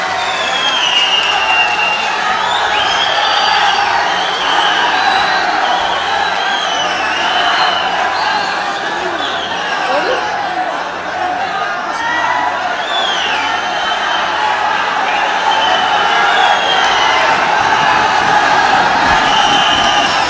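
Applause and cheering from a mushaira audience in Gandhi Bhawan, Lucknow, welcoming the poet Ana Dehlvi. A dense, steady wash of clapping and crowd noise holds at full loudness for about twenty seconds, with scattered shouts rising above it.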